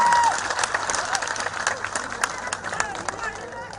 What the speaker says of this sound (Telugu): మీరు అందరూ ఒకసారి కవితకి సేవకు గట్టి చప్పట్లు కొట్టాలి